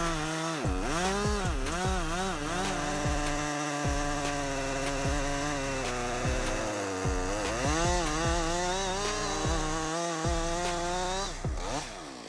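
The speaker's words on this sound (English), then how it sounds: "Let's take a close look at the wood cutting process of the Husqvarna 562" A Husqvarna 562 chainsaw with a 20-inch bar cuts into wood while felling a tree, its engine revving up and down loudly and close in repeated surges, with no speech.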